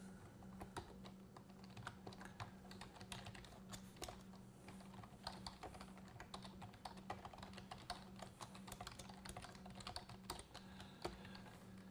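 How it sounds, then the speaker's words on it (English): Computer keyboard typing during a live coding session: a steady, quiet stream of irregular key clicks close to the microphone over a low electrical hum, with no talking. "Hopefully my keyboard sound isn't too much"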